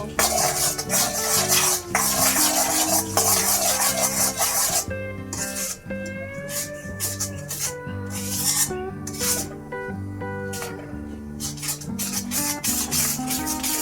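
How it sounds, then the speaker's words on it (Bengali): Jaggery melting in a pan over a low gas flame, with no water added, for peanut candy, stirred with repeated rasping scrapes in a steady rhythm over continuous background music. "ঘুরিয়ে ঘুরিয়ে পুরটাকে পুরো গলিয়ে নিয়েছি"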